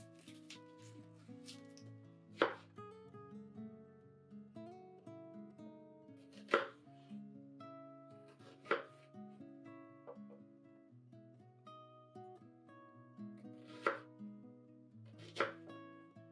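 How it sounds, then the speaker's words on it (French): A knife chops half an onion into cubes on a board, giving a handful of sharp, separate close cuts spaced a few seconds apart over soft background music. "Coupez ensuite un demi-oignon en cubes."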